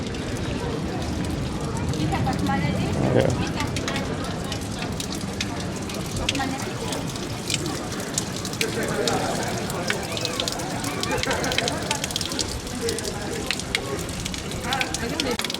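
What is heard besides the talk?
water flowing from a town fountain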